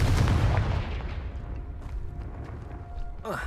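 Confringo fire spell going off in the video game Hogwarts Legacy, a loud booming blast that rolls and fades over a few seconds, followed by a short rising magical whoosh at the end.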